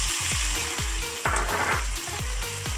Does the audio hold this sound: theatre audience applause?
no